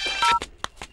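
A telephone rings with an incoming call, giving short bright electronic tone bursts in a quick broken pattern, close and clear.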